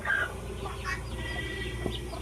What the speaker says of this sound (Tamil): கிரே கோழி இருக்குது